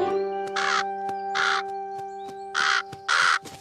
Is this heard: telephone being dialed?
no